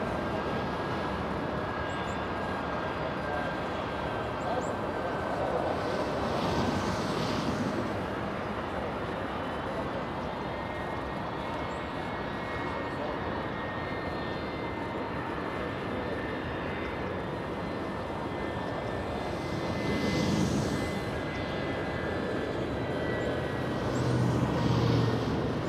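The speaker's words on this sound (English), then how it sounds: "looks like the 757 is getting a move" A Boeing 757 jet taking off from LAX runway 24 left, a broad steady engine roar heard from a distance that holds for the whole span with slight swells, mixed with faint surrounding traffic.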